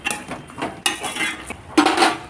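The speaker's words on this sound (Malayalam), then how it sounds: "നല്ലോണം ഒന്ന് ഇളക്കി യോജിപ്പിക്കാം" Avial, a Kerala vegetable curry, stirred in a pot with a metal spoon: loud close clanks and scrapes against the pot in uneven strokes, with no talking.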